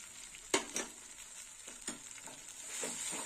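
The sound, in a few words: stirring karela sukto with chili and fenugreek paste in pan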